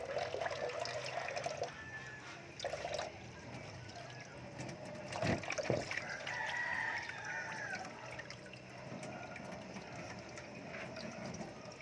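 Chickens cluck and call at a distance over steady background noise, with a few brief clattering knocks.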